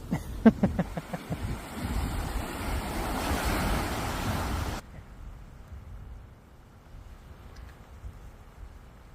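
Ocean surf rolls in as broad, washing noise for the first half, with wind buffeting the microphone, then drops to a quieter, distant wash of waves under light wind.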